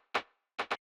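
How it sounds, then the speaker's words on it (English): Three crisp MIDI rim shots from a tight tech house drum pattern, one alone and then a quick pair near the end of the bar, short and dry with nothing else playing. "there's a rim shot, which sounds like this."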